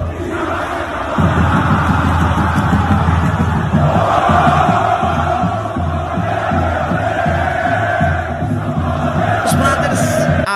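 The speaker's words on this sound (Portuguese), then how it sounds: "A torcida vai apoiar até o fim." Virtual stadium crowd in FIFA 22 during a São Paulo vs Corinthians Copa do Brasil quarter-final, a loud, sustained roar of supporters swelling after the first second and holding steady throughout, with rhythmic chanting texture.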